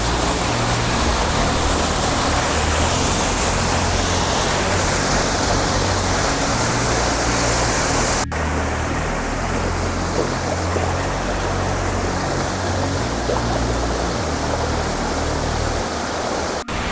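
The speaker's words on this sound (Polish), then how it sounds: "Kolejny wodospad zaliczony." Steady roaring rush of a waterfall in the rural Japanese countryside, loud and continuous throughout with no voices, a broad unbroken wash of falling water close by.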